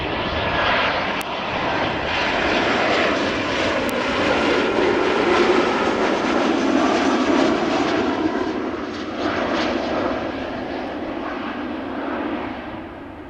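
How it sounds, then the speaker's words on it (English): An Embraer 190 airliner arriving at Amsterdam Schiphol Airport from Southampton gives a steady, loud roar of aircraft engines that holds for several seconds and then eases slightly as it passes. "This was an Embraer 190, by the way, arriving from Southampton."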